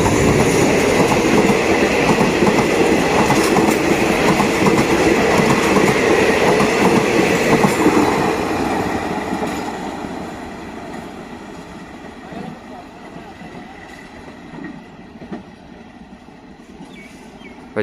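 A long-distance passenger train in Thailand rumbles past loudly with a rhythmic clickety-clack of wheels, then fades away into a quieter hum.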